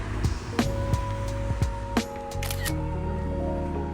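An iPhone 17 Pro Max camera takes pictures of insects on a house wall outdoors, giving several sharp shutter clicks spread irregularly over the first two seconds, followed by a steady background hum.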